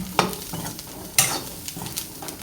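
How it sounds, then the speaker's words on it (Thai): Garlic stir-frying in a pan, a steady close sizzle broken by a few sharp scraping strokes of stirring, the loudest near the middle, with no voices. "ต่อไปก็คั่วกระเทียม"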